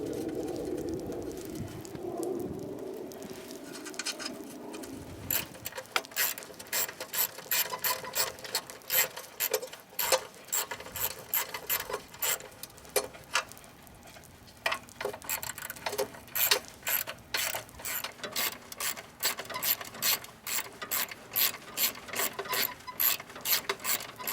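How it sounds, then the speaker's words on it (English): A ratchet clicks steadily while nuts are tightened on an Ariens snow blower during a pull cord starter repair, quiet at first, then rapid, crisp clicking in bursts that grow denser and closer toward the end. "All right, I've got everything tightened up."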